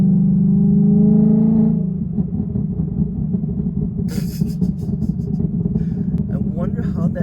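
Tuned 500 whp Ford Mustang GT heard from inside the cabin, a loud droning engine pull in third gear that drops off as the throttle is released, followed by a rapid crackle of exhaust pops.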